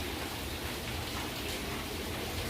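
Heavy overnight rain falling steadily, a dense even hiss with no breaks or voices.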